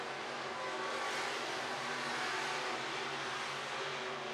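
Sport compact race cars race at Crawford County Speedway, heard as a steady, fairly distant engine roar that holds at an even level with no clear passes or talking.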